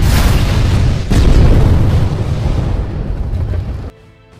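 A loud, sustained bomb explosion in the film Battle: Los Angeles, destroying an enemy cannon, roars with heavy low rumble, a second blast hitting around one second in, then the din decays and cuts off abruptly.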